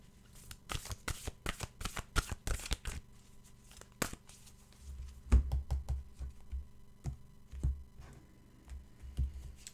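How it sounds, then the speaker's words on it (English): Oracle cards are shuffled up close, starting with a quick run of crisp flicks and riffles, then settling into sparser, softer slaps and shuffles. No one speaks. "Let's get an oracle card here."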